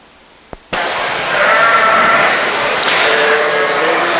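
Southdown sheep rams bleating in the ring at a sheep show, a brief knock followed by sustained, fairly loud overlapping bleats against a busy barn background.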